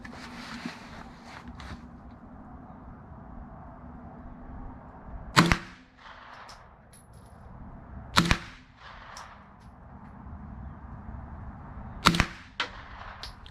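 Suppressed B&T M9 submachine gun in its short configuration with a flow-through end cap, firing three sharp muffled shots spaced a few seconds apart against quiet outdoor background.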